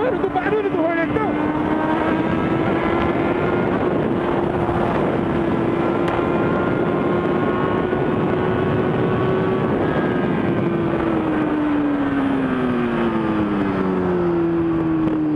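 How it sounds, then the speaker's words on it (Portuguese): A Honda Hornet motorcycle engine drones loudly nearby in traffic, a sustained tone that rises and falls as the revs change, with a clear upward and downward sweep near the end. "Gostou do barulho do Hornetão?"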